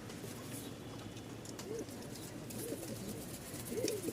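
Soft, low cooing from Lal Sundari and Tiger Giribaz pigeons, a few brief coos spread across a noisy, murmuring background.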